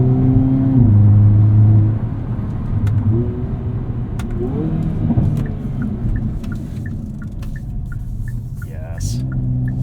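A 2022 Hyundai Kona N with a wet clutch setup cruises normally, its steady engine and road rumble loud and continuous, with a deeper surge near the start and faint short ticking later on.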